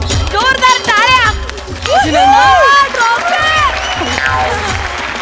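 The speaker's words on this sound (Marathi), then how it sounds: "जोरदार टाळ्या." An audience at an awards ceremony applauds and cheers, with voices and shouts rising over the clapping throughout.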